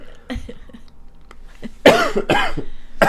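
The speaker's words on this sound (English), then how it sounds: "Yeah, now we're coughing" A few coughs, first a quieter one and then two loud, harsh bursts up close, with brief quiet gaps between.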